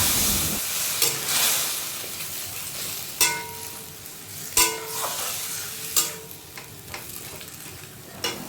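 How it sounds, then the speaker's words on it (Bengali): Onion, tomato and a tempering of cumin, bay leaf and dried chili fry in a pan, a steady sizzle broken by several sharp clanks of stirring at regular intervals, no talk. "এখানে দেখো ফোড়নে দিয়ে দিয়েছি জিরে, তেজপাতা, শুকনো লঙ্কা, টমেটো আর হচ্ছে পেঁয়াজ।"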